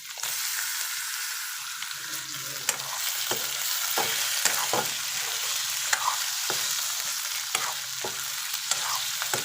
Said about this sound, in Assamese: এইখিনি অলপ ভালকৈ ভাজি লওঁ